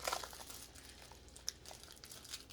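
Plastic packaging of a Temu diamond painting kit crinkles close up, a steady quiet rustle with a few sharper crackles and no voices.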